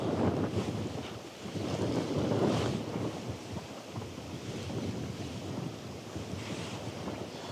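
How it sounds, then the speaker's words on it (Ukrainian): Strong wind buffets the microphone in heavy, roaring gusts beside a lake while spin fishing, with rushing water faintly underneath. "вітер шалений"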